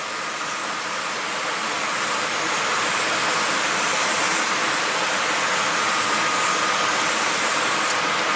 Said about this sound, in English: I'm going to take my watering wand, and I have it set to mist